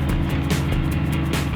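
Steady in-car drone of a car driving along a Sri Lankan road toward Ella, a continuous low engine and road rumble with no talking.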